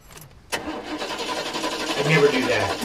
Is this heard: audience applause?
no